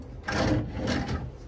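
A drawer in a Bangkok hotel room slides open and shut, giving two close rubbing scrapes of moderate loudness in quick succession.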